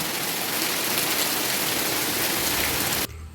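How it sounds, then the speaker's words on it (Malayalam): Heavy rainwater flows and roars steadily and loudly, a dense continuous wash that cuts off abruptly near the end. "നന്നായിട്ട് വെള്ളം ഒഴുകണുണ്ട്"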